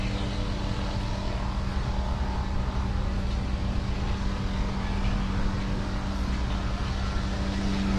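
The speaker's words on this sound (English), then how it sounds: "the last chopper is now going into the sky" A police helicopter lifts off in Johannesburg, its steady rotor and engine roar filling the air as a continuous, loud, broad drone without pauses.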